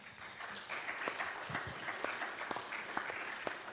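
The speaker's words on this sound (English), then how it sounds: "Let's give ourselves a round of applause." Audience at a panel conversation on the American story applauds, a steady wash of many hands with distinct sharper individual claps standing out, moderately near, no speech.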